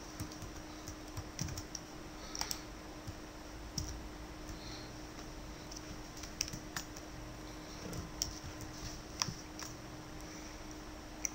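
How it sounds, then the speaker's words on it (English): Keys on a computer keyboard tap out Photoshop shortcuts in sparse, irregular clicks, quiet and close, with a faint steady hum underneath. "I use a lot of shortcut keys in Photoshop"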